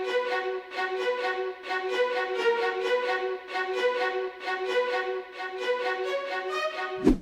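Short-note violin melody played through an orchestral plugin, a steady run of crisp, bright staccato notes in quick rhythm, clear and up front with no talking.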